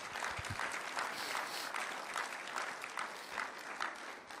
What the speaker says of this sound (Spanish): Dale un fuerte aplauso al Cordero de Dios.